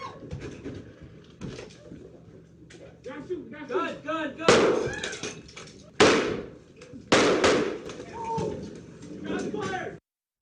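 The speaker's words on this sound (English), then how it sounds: "the suspect fired into the floor, then shot at the officer behind the desk" Gunshots fired inside a police station, captured on security footage: three loud, sharp bangs ring out in the second half amid people talking.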